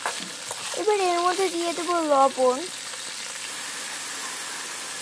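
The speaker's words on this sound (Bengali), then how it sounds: "সিদ্ধ ফুলকপিগুলোকে খুব ভালো মতো ভেজে নেব।" Boiled cauliflower pieces frying in hot oil, a continuous close sizzle running under a woman's speech at the start and carrying on alone afterward.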